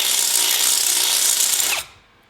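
Power drill boring holes through the steel frame of a Honda Rebel 250 motorcycle, a loud steady high whine that winds down and stops abruptly near the end.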